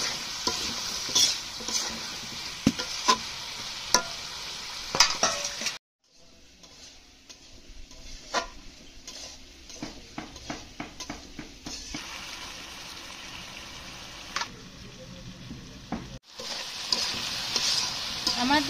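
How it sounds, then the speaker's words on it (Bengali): Brinjal and potatoes with salt and turmeric sautéing in a pan: a continuous close sizzle broken by frequent clicks and scrapes of stirring, the loudness dipping briefly partway through, with no talking. "আমার বেগুন দিয়ে আলু দিয়ে সুন্দরভাবে কষানো হয়ে গেছে"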